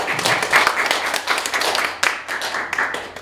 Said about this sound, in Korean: 우선 세 분께 큰 박수 부탁드리겠습니다